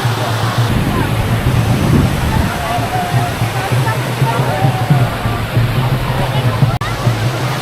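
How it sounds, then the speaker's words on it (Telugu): Chaparai waterfall in Araku roars as a loud, constant rush of falling water close by, steady for the whole stretch with a little wind, and a voice talks over it. "ఈ వెనకాల కనిపిస్తున్న వాటర్ ఫాల్లోకి ఇది దిగుతా దిగుతా అని మారని చెప్తాను"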